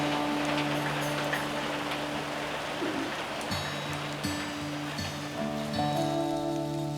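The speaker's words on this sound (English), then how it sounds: "As long as that rain's just drizzling like that and it's not blowing, then it's good for hunting." Light drizzle pattering steadily on surfaces outdoors during a hunt in wild-horse country, a dense even hiss with occasional drops, no voices.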